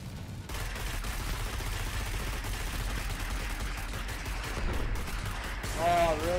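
Weapons fire in the Destiny beta as a dense, continuous rattle of rapid shots. A voice comes in briefly near the end.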